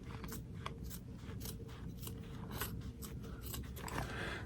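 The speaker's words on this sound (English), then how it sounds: "It's really thick in places, and these scissors aren't the sharpest" Dull scissors snip repeatedly through thick fabric and stitching, a close, quiet series of crisp crunching cuts in an uneven rhythm with no talk.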